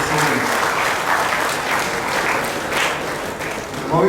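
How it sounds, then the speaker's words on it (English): Loud, steady applause from an audience at a coaching institute's annual prize night, many hands clapping together without a break and swelling slightly at the close. "A big round of applause for all these wonderful students."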